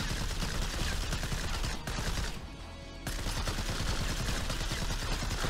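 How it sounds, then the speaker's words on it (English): Grenade launcher firing in the first-person shooter STRAFE, with dense, loud, rapid explosive bursts that pause briefly partway through before the barrage resumes, with no talk. "Grenade launcher."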